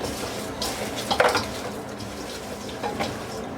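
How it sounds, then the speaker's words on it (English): Pierogies and onions are tossed with oil by gloved hands in a bowl, making soft, wet squishing and slapping with a few brief louder knocks against the bowl. "I'll just sit here and put gloves on, and then that way I can toss this around"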